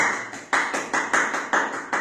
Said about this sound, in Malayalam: നമുക്കൊന്ന് കൈയടിച്ചാലും വലിയ കൂട്ടായ്മയുടെ കൈയടി